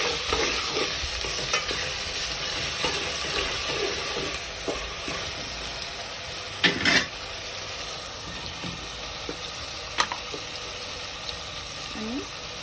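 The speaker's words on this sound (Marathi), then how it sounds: "त्यामध्ये लगेच 1 चम्मच अद्रक लसूण पेस्ट टाकून घ्यायचं. त्याला असं मिक्स करून घ्यायचं." Ginger garlic paste being mixed into khichdi in a hot pan: steady sizzling with repeated scraping and stirring strokes, a couple of louder clanks of the utensil, close by.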